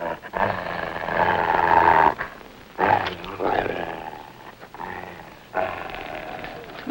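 A mean-looking dog, said to resemble a wolf, growls in long, rough, rumbling stretches broken by short pauses, loud and close.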